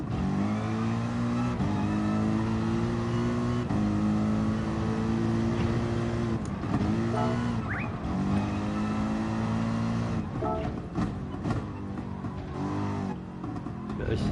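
Racing-game car engine revving hard and continuously, with sustained rising and falling pitch through gear shifts, loud and close, without talk.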